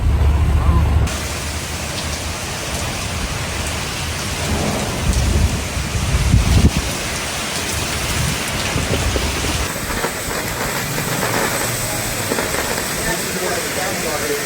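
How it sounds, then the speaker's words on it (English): Heavy rain pours down steadily throughout a thunderstorm approaching Edmonton, with low thunder rumbles rolling in the first seconds and again midway, a dense continuous wash of rain close by. "In a short time, heavy rain fell across almost the entire metropolitan area."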